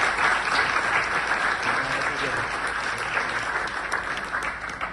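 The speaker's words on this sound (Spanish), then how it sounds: "un aplauso para Charlista." Loud, dense audience applause filling the whole stretch, a steady wash of many hands clapping with no break.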